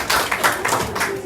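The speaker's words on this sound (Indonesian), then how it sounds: "kita tepuk tangan dulu untuk kelompok Mawar" A group of students claps together in a classroom, a soft, dense patter of hands with a loose rhythmic pulse, close and steady, with faint voices mixed underneath.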